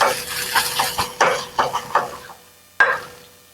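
Grated potato and egg mixture stirred in a pan over medium heat for egg kobiraji, a series of close, sharp scraping clacks of a spoon against the pan, with a pause and one last knock.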